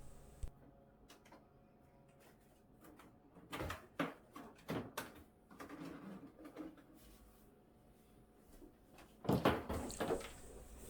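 Handling of an old drawer cabinet beside a computer desk at home: sharp knocks, wooden thuds and scraping rattles come in irregular bursts close by, with quiet pauses between them.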